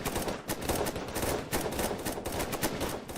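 Rapid, dense gunfire from a played training video on edged-weapon survival, a continuous rattle of shots heard through a playback speaker at moderate level, with no voices.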